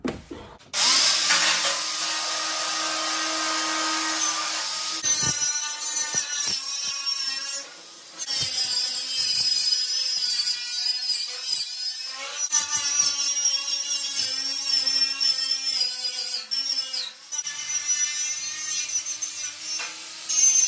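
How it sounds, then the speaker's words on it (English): Angle grinder scraping rust off a racing lawnmower chassis, loud and close, with a harsh continuous grinding whine that dips and resumes as the disc shifts across the metal. "Anyway, I'm using the angle grinder."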